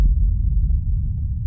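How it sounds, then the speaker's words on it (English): Hard techno rumble kick with soft saturation distortion at light drive, a dense low throbbing bass rumble sustained under a sharp kick transient, heard alone. "Next up, it's a soft saturation distortion."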